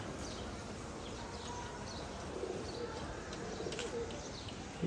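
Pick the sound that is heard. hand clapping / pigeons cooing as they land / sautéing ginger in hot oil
pigeons cooing as they land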